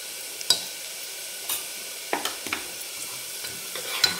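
Onions and turmeric sauté in oil in a pan for a mutton curry, giving a soft, steady sizzle broken by a handful of sharp scraping and stirring clicks from a spoon against the pan.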